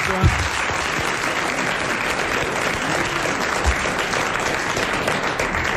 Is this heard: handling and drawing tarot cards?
no